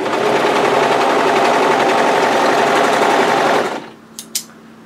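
An overlocker sewing machine stitches a knit tee in a loud continuous whir for nearly four seconds, then stops, leaving a faint hum and a couple of brief clicks.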